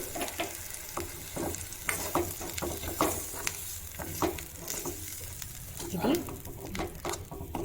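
Ajwain leaf chutney frying in a hot tempering, with a steady sizzle under repeated scraping and stirring clicks from a spoon in the pan, moderately close and continuous throughout.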